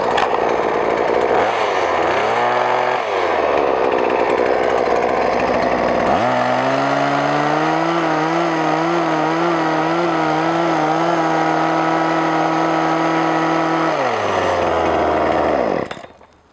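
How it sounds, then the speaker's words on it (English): Hedge trimmer cutting down raspberry canes at ground level in a high tunnel, a loud close motor whine that revs, bogs and rises in pitch during cuts, then winds down at the end. "this is a tool, this hedge trimmer here, that can make quicker work of a longer row"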